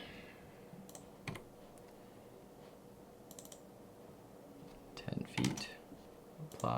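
Keys tapped on a computer keyboard while working in BricsCAD drafting a site plan, a few sparse clicks early on, then a denser burst of typing near the end, faint against a quiet room hum.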